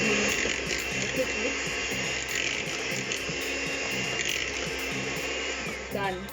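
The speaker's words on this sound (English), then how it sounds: "I'm going to just use the hand mixer now so we can stop aerating the product" A hand mixer stirring a chocolate and egg yolk mixture gives a steady, loud, close motor whir that runs unbroken for several seconds before easing off at the end, with no talking over it.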